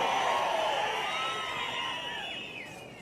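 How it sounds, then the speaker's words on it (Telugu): A crowd at an open-air political rally roars with cheers, whoops and shouting, a loud swell at the start that slowly fades over a few seconds. "గట్టిగా చప్పట్లు కొట్టి మీరు చెప్పాలి"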